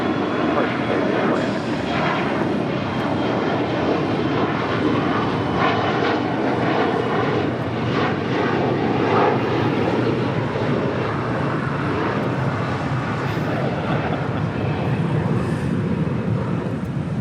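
At LAX an airliner takes off from runway 25 right, a steady, moderately distant engine roar running through the whole stretch while a voice talks and radio chatter comes and goes.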